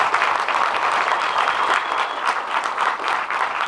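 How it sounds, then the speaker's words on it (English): An audience at a spoken word event on Black men's mental health claps steadily and fairly loudly, a dense wash of hands that holds through the whole stretch. "clap for that, man"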